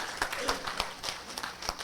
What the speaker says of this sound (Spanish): Aplauso a nuestro Rey de Reyes